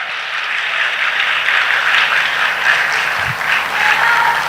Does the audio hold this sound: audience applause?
yes